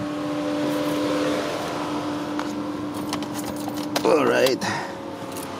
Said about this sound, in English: oh, the fan's still on because it reads 80 degrees Celsius